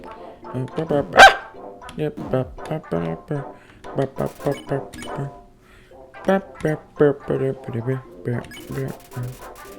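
A dog barks again and again in the Greater Dog battle of the video game Undertale, the short rhythmic bow-wow barks mixed with game sounds and a person talking over them.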